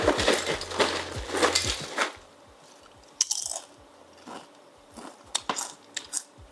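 Chips crunched into buffalo chicken dip, a burst of loud crisp crunching and rustling up front, then scattered sharp bites and clicks, close and alone without talk.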